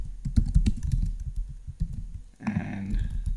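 Typing on a computer keyboard at close range: a quick, uneven run of crisp key clicks, followed by a short pause and a few more keystrokes.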